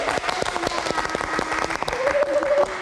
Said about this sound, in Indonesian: Kita beri tepuk tangan untuk Mbak Camelia.